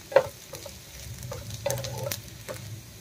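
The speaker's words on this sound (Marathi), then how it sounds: "कांदा आपल्याला छान असा लाईट गोल्डन ब्राऊन होईपर्यंत परतून घ्यायचा आहे।" Two onions frying in hot oil until light golden brown for paneer masala, a soft close sizzle broken by a few distinct spatula scrapes and taps against the pan.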